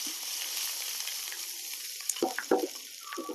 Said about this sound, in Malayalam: ഈ കടുകും മുളകും വറുത്തിട്ടത് ഇതിലേക്ക് ഇടാം